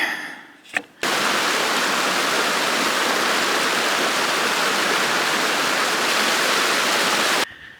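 River water flowing outdoors, a loud, dense, continuous rush that cuts in abruptly after a brief pause and holds steady for several seconds before stopping sharply, with no voices over it.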